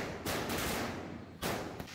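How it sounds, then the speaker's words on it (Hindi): A rapid crackling burst of Diwali firecrackers goes off at home, followed by a second loud burst, sharp and dense in close succession. "कुछ पटाखा था,"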